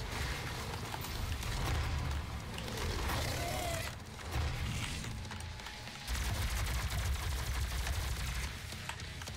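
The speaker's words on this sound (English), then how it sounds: "I love this shotgun" Shotgun blasts and chaotic combat in Doom (2016), heavy booming shots repeating through dense, loud action with brief lulls near the middle.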